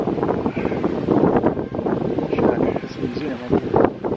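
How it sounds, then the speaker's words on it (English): Strong gusts of wind buffeting the microphone outdoors near rock caves, a continuous low rumbling roar under a person talking. "Ooh, that wind is horrible."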